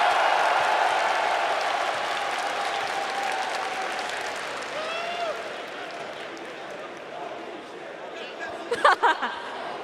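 Big arena crowd at the Evo 2022 main stage fighting-game tournament cheers and applauds in a broad roar that slowly fades, with chatter and a few louder shouts near the end.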